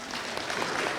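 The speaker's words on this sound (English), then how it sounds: "Let's give the choir a round of applause." Applause for the choir at a university spring graduation ceremony, a dense, steady patter of many hands clapping in a large hall for about a second.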